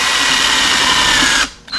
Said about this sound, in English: Instead of hand cranking, you just bring it on in with Mr. Drill.